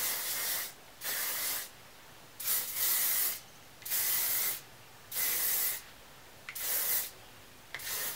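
Hairspray can hissing onto hair in six steady bursts of about a second each, separated by short pauses, close and fairly loud with no talking.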